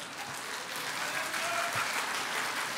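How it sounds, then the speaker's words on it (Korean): An audience breaks into steady, dense applause after a song, many hands clapping together at an even loudness for the full stretch with no voices. "I didn't sing to get the applause."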